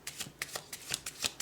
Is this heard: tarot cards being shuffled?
yes